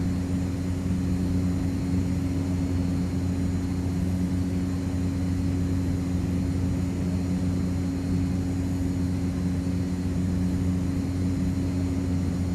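Cessna 208 turboprop engine in the X-Plane flight simulator, a constant droning hum with steady low tones, unchanging and fairly loud throughout with no talk.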